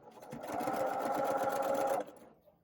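Sewing machine stitching a quilt block in a steady two-second burst of rapid, close needle clatter that stops abruptly.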